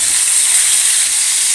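Coriander seeds and dried red chillies frying in a couple of spoons of oil in a home kitchen, a steady, close, even sizzle and crackle with no pauses.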